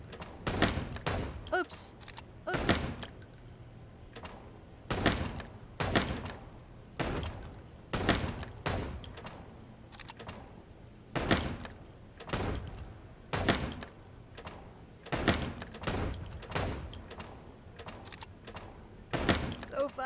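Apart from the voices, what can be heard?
gunfire in a shooting mini game from the video game Chicken Police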